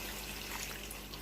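Hot water pours into a pan of potatoes in a faint, brief, continuous splashing trickle close by.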